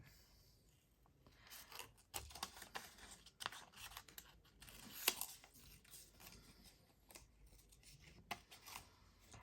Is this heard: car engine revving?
no